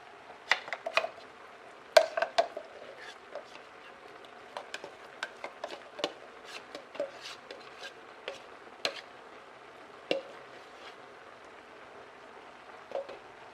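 Pasta being mixed with a green sauce in a pan on a low flame, with scattered light clinks and scrapes of a utensil against the pan, irregular and close, with no talking.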